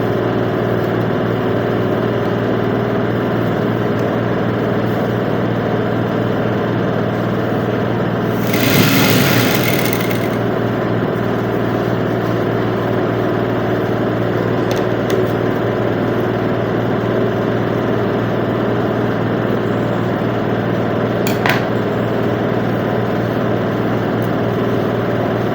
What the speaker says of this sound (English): pay attention to that noise. It's my washing machine that is making that